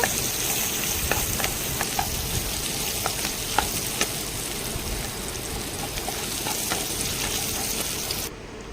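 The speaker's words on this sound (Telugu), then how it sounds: "ఇప్పుడు తెల్లగడ్డ పచ్చిమిరపకాయలు ఉల్లిపాయ కూడా యాడ్ చేసి ఫ్రై చేసుకుందాము సగం ఫ్రై అయ్యేంత వరకు చేసుకుందాం" Garlic, green chillies and onion fry in hot oil for a brinjal masala gravy, giving a steady, close sizzle with light crackles and occasional stirring clicks throughout, with no talking.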